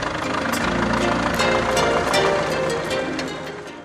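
A tractor engine runs steadily, a dense, continuous rumbling drone at close range that holds even throughout and fades slightly at the end.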